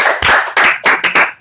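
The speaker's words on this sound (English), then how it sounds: "Give it up. Clap your goddamn hands." Loud, close clapping from a comedy podcast audience, coming in dense bursts with brief gaps between them and no talk over it.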